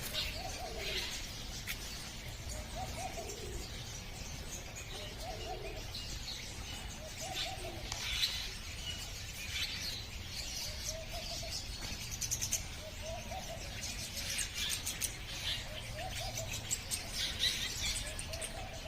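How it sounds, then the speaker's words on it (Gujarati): Birds chirp and coo on a morning near a Hanuman shrine, a faint, steady chorus of calls and tweets over a soft background hum, with no talking. "પક્ષીઓના કલરવ સાથે આનંદ હી આનંદ।"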